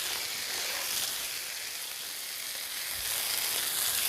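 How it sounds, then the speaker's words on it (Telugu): Spicy chicken fries in a pan, a dense, even sizzle holding steady throughout with no voices. "ఇంకొక 2 మినిట్స్ ఫ్రై చేసుకుందాం"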